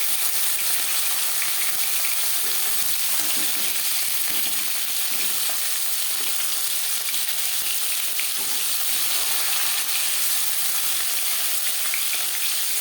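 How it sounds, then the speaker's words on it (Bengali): Small chela fish frying in a pan of hot oil, a steady dense crackling sizzle that holds evenly throughout, close and alone with no voices. "সামুদ্রিক মাছ আমি একটু কড়া করেই ভাজলাম"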